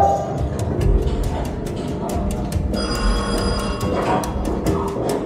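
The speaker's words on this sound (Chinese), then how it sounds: "电话响了。" A telephone bell rings over and over in rapid, evenly spaced bursts, loud and close against a busy background murmur.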